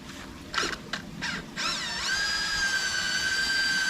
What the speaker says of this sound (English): the next step is to get your drill